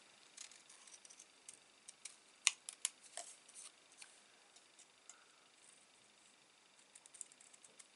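Small scissors fussy cutting papercraft card for a handmade stamped card, a series of faint, quick snips and clicks scattered irregularly across the stretch, one sharper cut standing out near the middle.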